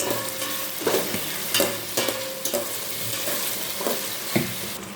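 Chicken biryani masala with onion and tomato stirred in a hot pan, a constant close sizzle broken by regular scraping and knocking spoon strokes about once a second, with no one talking.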